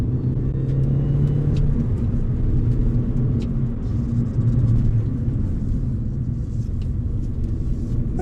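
A supercharged MINI Cooper S GP1 drives along with a steady, deep engine rumble and road roar, loud and close throughout with no clear revving peaks.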